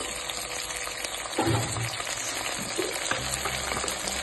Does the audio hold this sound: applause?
no